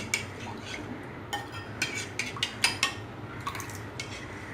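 Spoon clinking against a bowl while liquid and milk powder are mixed for homemade bread dough, a run of light, close taps and scrapes at a quiet level, with no talk.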